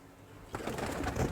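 Pigeons in a rooftop loft at a Khulna pigeon market. A moment of quiet gives way to dense, close cooing and rustling that stays steady to the end.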